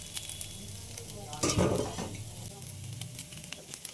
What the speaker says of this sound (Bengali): এবার আমি আলুটা দিয়ে নাড়াচাড়া করলাম।